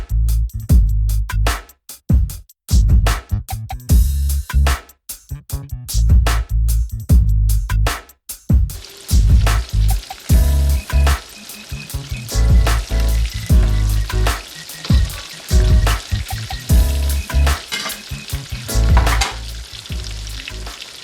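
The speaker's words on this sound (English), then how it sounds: "you fry it until it's nice and golden on both sides." Coconut-spiced fish fillets fry in hot oil with a loud crackling sizzle that comes in bursts and gaps early on, then settles into continuous spattering, with occasional stirring clatter and no talking.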